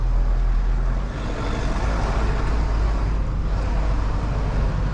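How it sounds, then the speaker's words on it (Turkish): Steady, continuous road noise from inside a moving Citroen C5 with a 2.0 163 hp diesel engine, a low, even drone and rumble with tyre and wind hiss and no talking. "Ya ikisi tabi dizel sesini duyuyorsunuz ama arkadan böyle gürül gürül ses de geliyor."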